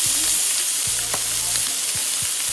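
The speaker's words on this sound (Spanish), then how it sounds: "Es momento de voltear los filetes." Fish fillets sizzle steadily in a frying pan, a dense continuous crackle with a few soft knocks and scrapes as the pieces are turned over, close and fairly loud with no talking.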